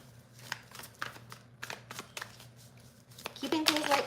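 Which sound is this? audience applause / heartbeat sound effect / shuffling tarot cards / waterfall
shuffling tarot cards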